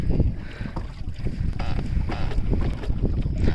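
A boat moves across water with a close, rushing churn and splash, mixed with heavy buffeting wind noise on the microphone.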